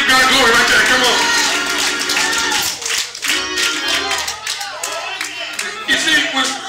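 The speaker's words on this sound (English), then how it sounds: "Come on and clap your hands and give God glory right there." Church congregation clapping their hands during worship, a steady dense patter of claps carrying through the whole stretch, with voices and music-like tones mixed in underneath.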